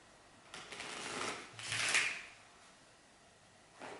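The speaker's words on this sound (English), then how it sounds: "All shuffle, guys" A deck of playing cards shuffled during a card trick, heard as two brief riffling bursts of papery flutter, fairly faint, with a softer rustle near the end and no talk over it.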